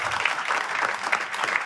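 An audience at an evening shayari poetry gathering applauds a recited verse, a steady dense wash of clapping that stays even and fairly loud throughout.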